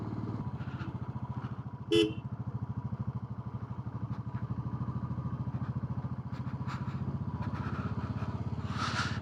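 A motorcycle labours up a mountain road toward Shinkula Pass in the Zanskar region, its engine thudding in a steady low rhythm close by, with a brief horn-like burst near the start and faint higher noises later.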